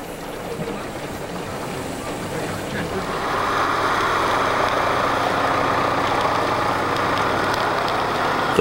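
A modern farm tractor's engine idles with a steady low diesel rumble that grows somewhat louder and fuller partway through, holding constant to the end.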